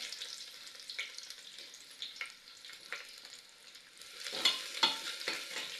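Whole spices and onion fry with a steady sizzle, broken by occasional clinks and scrapes of stirring, close up.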